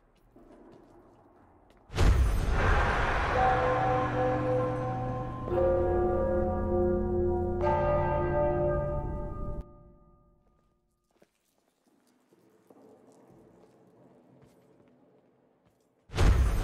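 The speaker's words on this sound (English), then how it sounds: "So, what's the deal with those bells?" Several large bells in Enderal ring out loudly in overlapping, resonant strikes with long ringing decays, fading into quiet ambient hum before another strike at the end.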